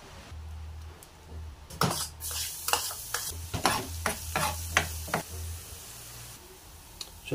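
Garlic fries in a little cooking oil while a utensil stirs and scrapes the pan in a quick series of clinks and scrapes over a soft, steady sizzle, close up and fairly quiet.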